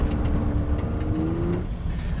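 A Mitsubishi 3000GT engine drones steadily while driving, a loud, close cabin hum with a rising tone as it builds revs before it eases off.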